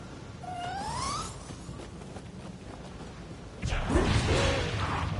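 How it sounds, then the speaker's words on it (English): A cat meows once with a rising upward glide inside the video game Nioh 2, heard against steady game ambience, followed by a louder swishing, clattering burst of game action. "I see a kitty kitty."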